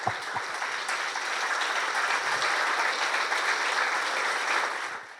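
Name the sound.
applause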